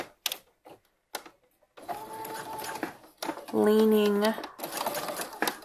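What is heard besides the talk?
sewing machine running a basting stitch on swimwear fabric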